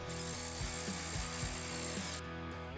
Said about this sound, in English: Thoroughly torque down and tighten each bolt to about 25 foot-pounds.